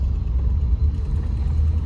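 A 1998 Chevy 2500 three-quarter-ton four-wheel-drive pickup with a five-speed manual rumbles along, its engine a steady low drone heard from inside the cab, with no talk.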